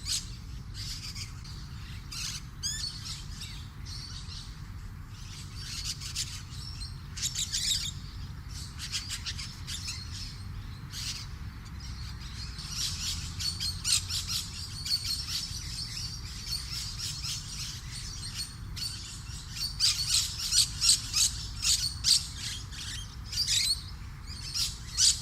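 Recently fledged musk lorikeets give repeated harsh, rasping begging squawks in irregular bursts, close and fairly loud, continuing for the whole stretch with no talking.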